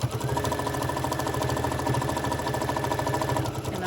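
A sewing machine stitches down a fabric tote bag strap with a fast, steady mechanical chatter and motor hum, running close and continuous without pause.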